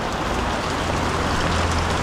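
Steady, dense typhoon rain pouring down in Bulacan, Philippines, a constant broadband hiss with a low rumble underneath, unbroken for the whole stretch.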